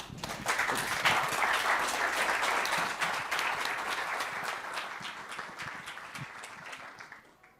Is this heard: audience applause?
yes